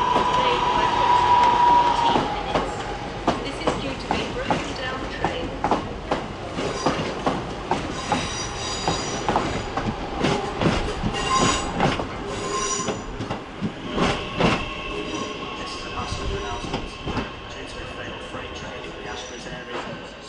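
Train at Manchester Oxford Road station, wheels squealing and clattering loudly over the rails, with rhythmic clicks and screeches throughout and station background sounds.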